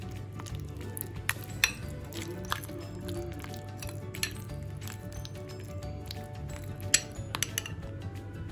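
A spoon mixes taco salsa seasoning in a bowl, giving a steady low scraping churn with scattered light clinks against the dish, close and fairly quiet.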